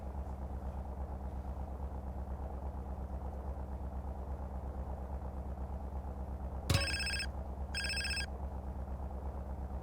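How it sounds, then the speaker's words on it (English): In GTA San Andreas, a cell phone rings in two short electronic bursts over a steady idling engine hum, loud and close. "We'll get a phone call."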